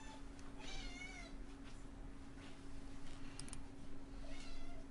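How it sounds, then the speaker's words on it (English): A cat meows repeatedly in the background, several drawn-out, wavering cries at moderate distance over a steady low electrical hum. "I'm sorry for the meowing in the background."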